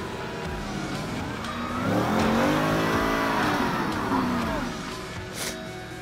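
A Porsche Cayenne revs hard while climbing a steep hill before a crowd at an off-road event, its engine note rising and swelling loudly for a few seconds and then easing off, with a voice briefly audible.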